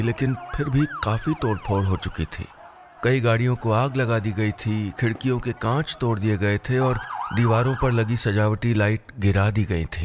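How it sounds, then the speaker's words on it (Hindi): A police siren sound effect in a Hindi audio story, wailing in repeated rising and falling sweeps behind someone narrating almost continuously. "पुलिस का सायरन माहौल में गूंजने लगा था।"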